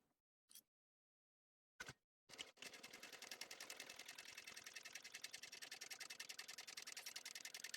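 Brief clicks and a pause, then a home sewing machine starts top stitching across a laptop bag made of waterproof utility fabric, its rapid, even needle rhythm running steadily to the end at close range.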